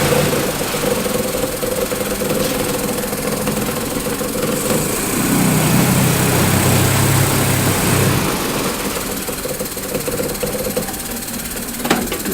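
A Yamaha engine runs steadily just after being shifted into forward gear, a continuous loud drone with a deeper rumbling surge in the middle before settling back.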